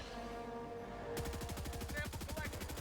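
Rapid automatic gunfire aimed at a Terminid nest in the video game Helldivers 2, a dense stream of evenly spaced shots bursting in loudly after a second of quieter game ambience and continuing to the end.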